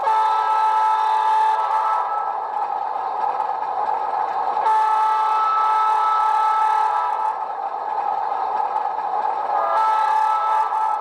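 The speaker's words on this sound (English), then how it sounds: "F5 is Doppler horn." A Rapido HO-scale Alco PA model locomotive's LokSound decoder plays its Doppler horn: a loud, sustained multi-tone blare that keeps going with a few shifts in strength, and no other sounds.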